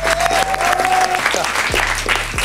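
Applause from a studio audience at a French talk show, a burst of clapping over a loud, steady hum with tonal background sounds for a couple of seconds.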